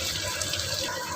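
Water poured into chicken curry in a pot, a steady, rushing splash throughout the short moment, close and fairly loud, with no voices.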